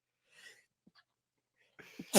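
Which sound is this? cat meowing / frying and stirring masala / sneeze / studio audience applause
sneeze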